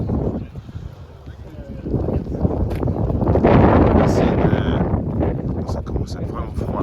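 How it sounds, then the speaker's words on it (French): Cold wind in England buffeting the microphone with loud, rumbling low gusts that swell and fade, a person talking underneath. "Ça commence à être vraiment froid là, le vent en Angleterre."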